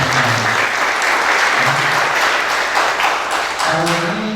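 Audience applause at a university scholarship ceremony for STT Dumai students funded by Bank Indonesia, steady dense clapping filling the hall for about four seconds with a voice briefly audible near the end.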